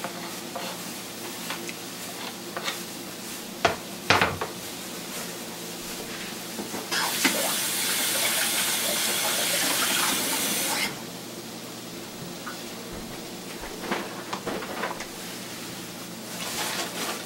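Onion and mushrooms drop into a hot frying pan for a vegan avocado basil pesto dish, setting off a loud hissing sizzle that swells for several seconds amid stirring scrapes and clinks, then settles back to a low crackle.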